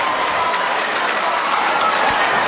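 Basketball fans cheer in a gym during a junior high state final, a steady, loud crowd roar with clapping and shouting that holds without pause throughout.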